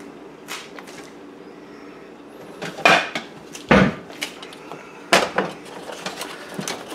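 A knife dicing red and green peppers on a cutting board, heard as a few sharp, irregular chops and knocks over a quiet background.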